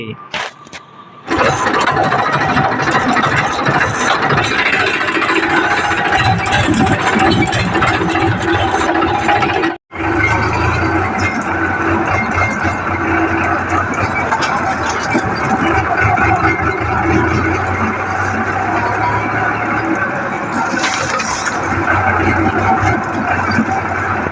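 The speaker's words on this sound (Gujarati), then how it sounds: "આપણે હવે ટ્રેક્ટર લઈને જઈ રહ્યા છીએ ઘરે।" A tractor engine roars loud and steady as the tractor drives home from the field, coming in abruptly after a second of quiet and droning on with only a brief dropout partway.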